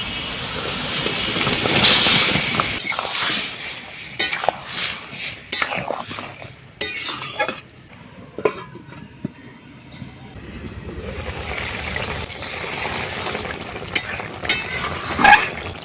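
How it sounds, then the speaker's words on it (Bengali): Tender brinjals going into a boiling fish curry, with clattering pot and spoon knocks, scraping stirs and a bubbling simmer, close and fairly loud, with sparse muffled voices in the background. "ঝোল ফুটে গেছে এবার দিয়ে দেবো বেগুনগুলো"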